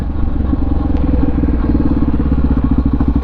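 A motorcycle engine idles just after a hard start, a close, even low putter with steady rapid firing pulses and slight mechanical clatter, no talk over it.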